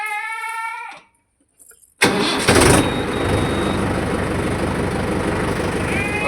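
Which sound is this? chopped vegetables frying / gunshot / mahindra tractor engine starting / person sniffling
mahindra tractor engine starting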